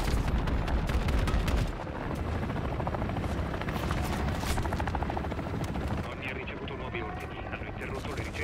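Support helicopter in Call of Duty: Modern Warfare 3, a heavy rotor drone blended with bursts of gunfire and explosions in a dense, loud battle mix, with voices talking over it.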